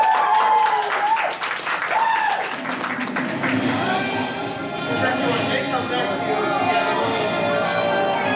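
Audience applause at an anime convention game show, a dense wash of clapping under a speaking host early on, then steady crowd clapping and cheering filling the rest.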